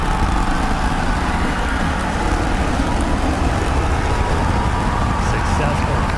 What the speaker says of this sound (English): going for a landing burn, trying to light 2 of these Raptor sea level engines